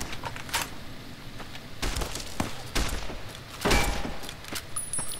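Gunfire in Fallout: New Vegas: several sharp shots, some spaced and some in a quick cluster, over an ambient game background with no talk.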